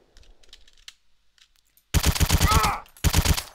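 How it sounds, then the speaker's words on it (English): Rapid burst of video game gunfire, loud and close, firing in quick repeated shots for about a second, then a brief pause and another burst; quiet clicks and faint background sounds come before it. "Sorry, preemptively shooting."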